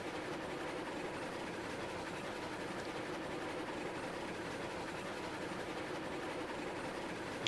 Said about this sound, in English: we're running a 26 car train of lumber from the coal mine